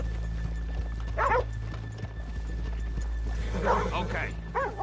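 Horse hooves clip-clop in short bursts over a low steady hum in the video game Red Dead Redemption 2 on PS4, with a horse whinnying and some faint voices around.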